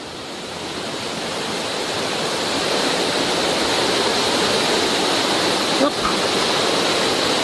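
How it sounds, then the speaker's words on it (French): An isolated waterfall in the Cirque de Saint Même makes a steady, full broadband roar that swells slightly as it nears and stays close and loud throughout, with a brief spoken interjection over it. "Alors nous sommes arrivés à la cascade isolée."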